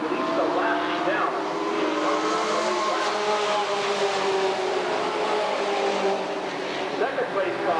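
Sportsman race cars lapping the Redwood Acres dirt raceway, a continuous loud drone of several engines rising and falling as they circle, with a track announcer talking over the noise.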